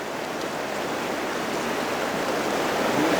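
Fast-flowing stream water in a Grand Teton canyon, a steady close rushing hiss that grows slightly louder toward the end, with no voices.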